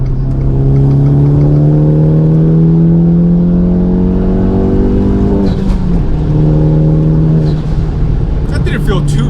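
Fiat 500 Abarth engine pulling in third gear at about 4,000 RPM up a slight incline, a loud steady droning rev that climbs gradually, dips briefly, then holds, heard from inside the car.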